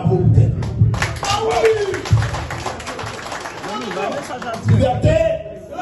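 Audience applause at a large public event about Haiti, clapping rising in bursts under a speaker's voice and crowd noise.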